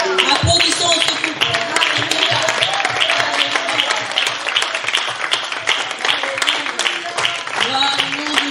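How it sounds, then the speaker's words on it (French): A church congregation applauds a couple at a 26th anniversary service, dense sustained clapping from many hands that fills the room, with a voice speaking over it. "Applaudissons ce couple."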